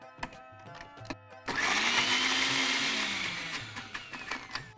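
A kitchen blender grinds chutney ingredients including chillies, rock salt and lemon juice, starting abruptly after a few soft taps and whirring loudly and steadily for about three seconds before winding down.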